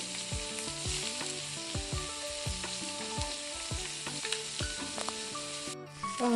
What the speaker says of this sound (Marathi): मधल्या जागेवर तळायला टाकूया गॅस पण कमी करते